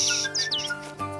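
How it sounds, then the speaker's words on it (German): A cartoon bird chirps in a short series of quick, bright rising tweets, clear and alone, followed by a softer tonal note. "Oh, ein Vogel!"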